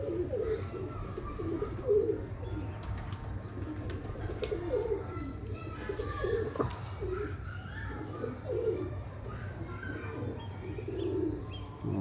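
Pigeons coo in low, repeated bursts around a home loft where a teddy pigeon is paired with a female, the soft calls continuing over a steady background hum.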